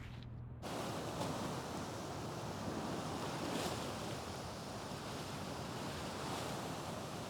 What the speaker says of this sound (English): The Indian Ocean is roaring in that region